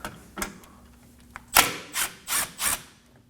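Removing a Phillips screw from the engine splash shield of a 2014-2020 Acura MDX, a few close, short whirring bursts from a power driver with light clicks in between.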